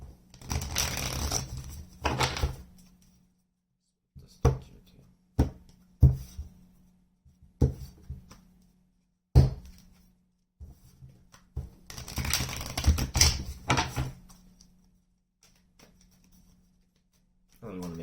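Bursts of cards being shuffled and riffled, several separate rounds with quiet pauses between, close and crisp.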